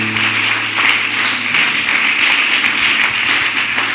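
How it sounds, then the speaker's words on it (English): A church congregation gives a sustained round of clapping, steady and dense throughout, with no talk over it. "Give the Lord a mighty clap offering"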